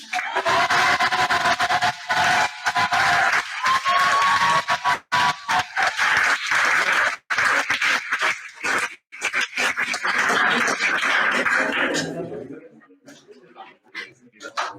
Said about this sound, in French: Tous nos applaudissements et encore merci pour votre patience pour Anna Deblic.